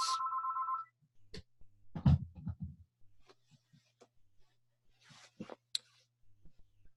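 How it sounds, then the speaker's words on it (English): A phone rings close by with a loud, bright electronic ring for about a second, followed by handling clicks and rustles as it is switched off, over a low steady hum. "Just let me switch the phone off here."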